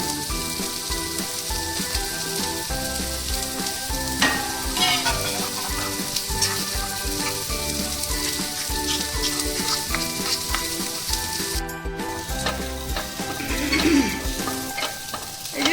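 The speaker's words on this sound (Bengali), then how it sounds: "সয়াবিনটা আমার ভাজা হয়ে গেছে" Soybean chunks frying in a pan give a steady, continuous sizzle for the whole stretch, close and fairly loud, with occasional stirring scrapes and no talking.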